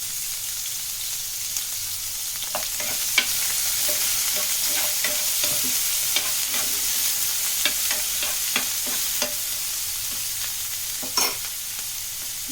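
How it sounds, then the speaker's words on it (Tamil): Onions frying for godhumai rava upma, a constant close sizzle broken by frequent scraping and tapping of stirring in the pan, with no talk. "இப்போ நம்ம வெங்காயம் ஆனியன் சேர்த்துக்கலாம்"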